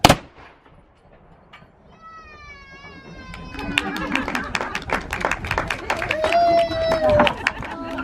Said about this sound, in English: there's our cannon firing demonstration here at Fort Mackinaw